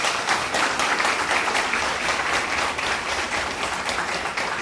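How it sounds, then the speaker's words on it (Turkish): An audience applauds at a CHP district party congress in Muratpaşa, a dense, sustained roar of many hands clapping at once, loud and steady throughout. "Ama yüksek, kendinizi takdir etmek için bir alkış."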